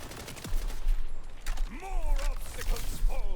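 Rapid gunfire from Vladof guns in the Borderlands 4 video game, a dense crackling fusillade running throughout, layered with whooshing, sweeping game effects.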